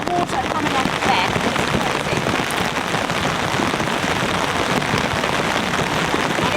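Steady heavy downpour drums on a camping tarp and streams off its back edge, a loud, unbroken wash of rain noise close by.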